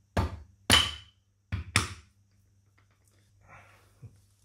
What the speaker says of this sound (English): So I'm going to hammer this one back in.